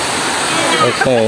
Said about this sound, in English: Water flowing coming down from the hill.